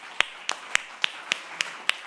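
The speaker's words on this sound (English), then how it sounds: "Please join me in applause to welcome Pere, Vila, and Jorge Garcia to this session." Seven evenly spaced sharp claps over about two seconds, a single pair of hands applauding in a conference session room rather than a full crowd.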